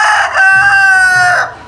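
A rooster crows loudly and close by in a desi village setting, one full crow lasting over a second and standing alone.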